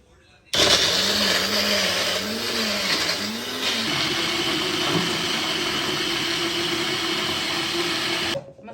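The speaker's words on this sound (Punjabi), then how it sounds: "ਮਸਾਲਾ ਆਪਾਂ ਗ੍ਰਾਈਂਡ ਕਰਕੇ ਦੇਖਦੇ ਆਂ" A mixer grinder whirs loudly as it grinds an onion, green chilli and ginger masala, cutting in abruptly and running steadily for about eight seconds, its pitch wavering early on before settling into an even drone, then stopping.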